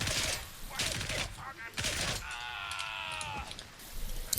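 Single-fire gunshots in the video game Gray Zone Warfare: a few separate sharp shots spaced about a second apart, with a brief tonal mechanical ring between them.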